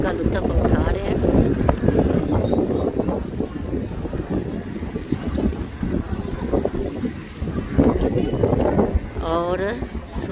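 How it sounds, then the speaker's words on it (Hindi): Strong wind buffets the microphone in a steady roar in Karachi, with a faint voice briefly audible near the end. "तो तेज़ हवाएं चल रही हैं"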